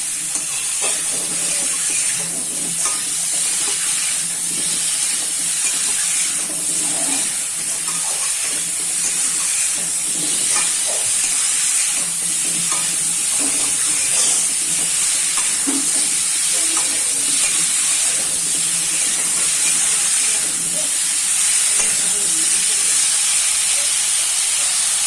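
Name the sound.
frying and stirring pointed gourd with salt and turmeric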